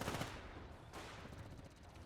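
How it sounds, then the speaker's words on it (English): MG-34 machine gun firing in the real-time strategy game Company of Heroes, a faint, rapid rattling burst heard at a distance over battlefield noise. "MG-34 putting in some work on these conscripts."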